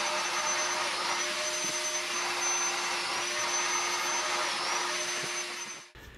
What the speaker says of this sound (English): You'll need an 8mm bit in your domino, and you cut your mortises in the usual way.